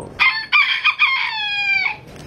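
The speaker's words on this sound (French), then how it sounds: "Il y a 50 poules sur la terrasse, comment tu veux que je dors?" A rooster on a terrace with chickens gives one loud, close cock-a-doodle-doo, a few stuttered opening notes drawn into a long wavering crow that cuts off cleanly.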